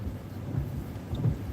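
Wind and rain sweep through a storm near Kearney, Nebraska, a steady low rumble with a couple of heavier gusts swelling near the middle and end, with no voices.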